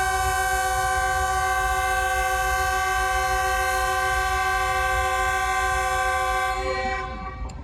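A loud, sustained train departure horn blares steadily for several seconds at a foggy Lahore railway station, then begins to fade near the end.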